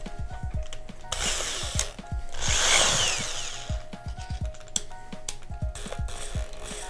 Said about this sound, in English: Now I'm going to go ahead and put it in my drill.